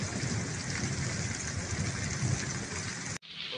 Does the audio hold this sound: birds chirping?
no